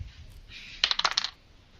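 Dice rattling and clicking during a tabletop Exalted game, a quick burst of hard clacks lasting about half a second, fairly close and alone over a quiet background.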